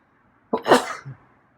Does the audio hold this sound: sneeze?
yes